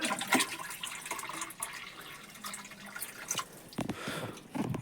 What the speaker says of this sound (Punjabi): ਪਾਣੀ ਵੀ ਪਾ ਦਈਏ